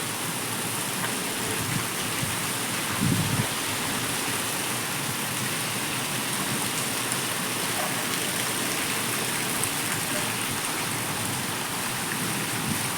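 Steady, heavy rain pours down with a dense roar and gusting wind tossing trees, loud and continuous throughout, with no voices.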